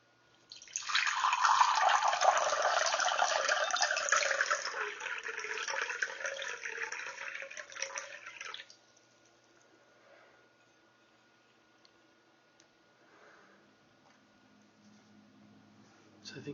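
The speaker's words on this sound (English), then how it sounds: "hopefully there'll be some nice pouring water sounds" Water pours steadily for about eight seconds while paint colors are mixed, a close, continuous splashing stream that stops abruptly and leaves faint quiet handling noises.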